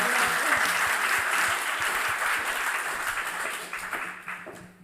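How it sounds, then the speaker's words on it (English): A crowd at an honours programme closing ceremony claps in sustained applause, a dense steady patter that gradually tapers off toward the end. "We give you a round of applause."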